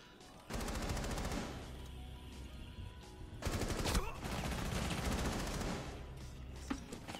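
Gunfire in Rainbow Six Siege, rapid bursts of automatic shots crackling in quick rhythm, loud and close, with a short pause before a second stretch of firing and scattered game noise.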